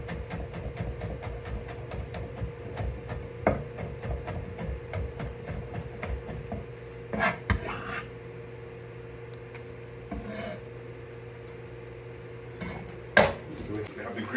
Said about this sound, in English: So we crush it, and we're gonna mince it up.